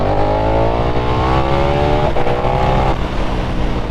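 A 2022 motorcycle fitted with Racetorx throttle spacers revs loudly and close, its engine note climbing steadily, dipping briefly as the throttle is rolled off, then pulling back on power.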